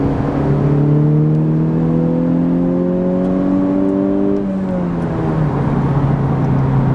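A 2020-2021 Honda Civic Type R engine climbs in pitch through a strong acceleration pull, loud and close from inside the car, then drops as it shifts and settles into steady cruising noise.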